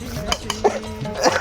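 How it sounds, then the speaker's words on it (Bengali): Meat being stirred in a pot, close scraping and clinking of a spoon against the pot in quick irregular strokes with a soft sizzle underneath. "একটা অসাধারণভাবে মাংসটা নাড়া হচ্ছে"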